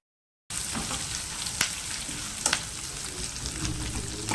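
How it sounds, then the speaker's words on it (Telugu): Garlic cloves, dried red chillies and curry leaves fry in a pan of hot oil, a steady dense sizzle with a few sharper spatters and pops, close and continuous with no voices. "తర్వాత ఎండుమిర్చి, కరివేపాకు వేసి అవి మంచిగా వేగేంత వరకు"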